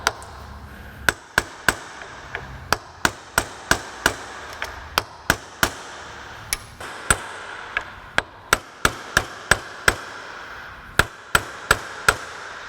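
A hammer taps repeatedly on the water pump of a 2003 Nissan 2.5L engine, giving sharp, irregular metallic knocks, close and distinct against a quiet workshop background with no talk.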